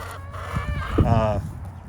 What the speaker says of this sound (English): this is all of our new laying hens. There's 12 of them in there.